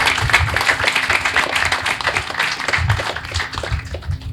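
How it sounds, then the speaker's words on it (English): Audience clapping at a Coast Guard change of command ceremony, a close, steady patter of hands with an uneven rhythm and a faint hum underneath. "If you please join me in giving her a round of applause."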